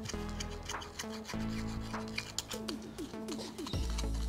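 Old paint being scraped and rasped off a vintage fishing lure after a 24-hour soak in Windex, a steady close scratching that runs throughout over a bed of music.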